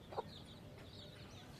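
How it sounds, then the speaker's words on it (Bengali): Farm hens with a few small chicks, one short soft cluck near the start, then only faint background ambience. "এটা হচ্ছে আমাদের ফার্মের মুরগি"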